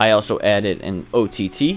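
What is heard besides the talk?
No everyday noise stands out behind the speech.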